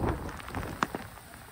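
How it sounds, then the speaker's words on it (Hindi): Heavy rain driven by strong wind during a storm at an outdoor mini zoo, a steady broadband wash with scattered sharper drops and gusts, fairly close and continuous with no talk. "बहुत तेज हवा चल रही है और तेज ही बारिश है"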